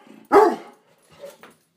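A Doberman guard dog lets out one loud, close bark, followed by a quieter softer woof and a short whine in an otherwise quiet indoor space.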